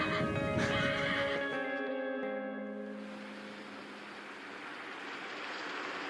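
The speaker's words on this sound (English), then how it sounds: "You can tell there's a lot of horses behind us, 480." A large herd of horses, hundreds strong, whinnying loudly and close by at first, the neighs fading into a steady broadband rumble of hooves and movement.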